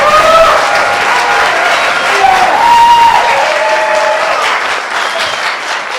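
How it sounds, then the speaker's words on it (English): An audience at a ninth-grade student Shakespeare production applauds loudly and continuously, a dense close wash of clapping that holds for several seconds before easing slightly toward the end. "a big round of applause for that"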